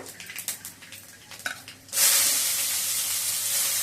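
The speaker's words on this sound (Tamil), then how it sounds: "அதுக்கு 2 பட்டை, கொஞ்சம் சோம்பு தாளிக்கிறதுக்கு" Clattering and stirring give way to a sudden loud, steady sizzle as cinnamon and fennel seeds hit hot oil, crackling continuously nearby.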